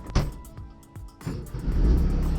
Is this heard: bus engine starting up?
yes